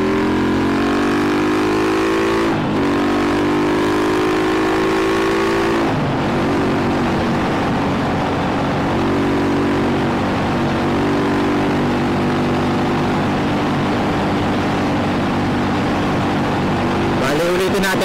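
A Rusi motorcycle engine drones steadily with its pitch falling in steps as it slows under engine braking during break-in, loud and close, with no talking.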